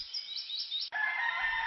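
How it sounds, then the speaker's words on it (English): A rooster crows in a quiet mountain village, a clear, fairly close cock-a-doodle-doo with no talking, followed by smaller birds chirping. "The sounds of roosters crowing, birds tweeting, and broomgrass rustling fill the air"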